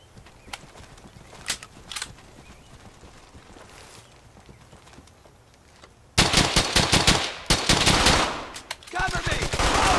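Machine-gun fire in a World War II shooter game, Brothers in Arms: Hell's Highway, starts as faint distant pops, then becomes loud rapid close bursts for the last four seconds, with a short break between them.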